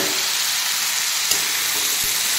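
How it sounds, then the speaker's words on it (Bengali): Pumpkin and potato curry fries in a pan, giving a steady, dense sizzle throughout with a couple of faint stirring knocks. "এবার নুন দিয়ে এটাকে ভালোভাবে ভাজবো।"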